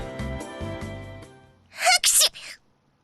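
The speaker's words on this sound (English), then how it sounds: "You guys heard what it was, a sneeze." A sneeze from a character in the visual novel game Nekopara, a loud, sharp burst standing alone after a stretch of soft game music.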